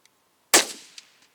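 A single sharp rifle shot fired at a target cracks out loudly, followed by a short decaying echo and a faint after-tap.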